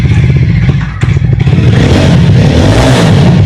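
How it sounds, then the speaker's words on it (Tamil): Jawa 42 motorcycle fitted with a deep-toned aftermarket exhaust, revved close up: a loud, bassy engine note with a brief throttle blip and stutter near the start, then building into a sustained, rising rev. "நல்லா ஒரு பேஸான எக்ஸாஸ்ட் இதில் இருக்கும்."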